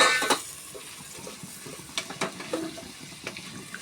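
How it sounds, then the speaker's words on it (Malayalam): Bitter gourd is sautéed in a pan for theeyal, with a soft sizzle broken by several sharp scrapes and clinks of a spoon stirring against the pan. "പാവക്ക ഒരുപാട് നല്ലോണം വഴറ്റുന്നുണ്ട്"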